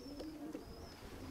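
Pigeon cock of a racing strain, son of a top breeder's bird, cooing in low repeated purrs, fairly close, over a steady background hum with faint chirps; no voices.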